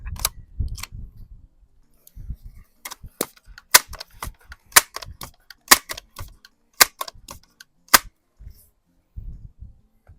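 A Crosman Vapor Max air rifle firing a group of shots at a target, each a sharp, dry crack spaced a second or so apart, with faint low handling thumps in between and no talking.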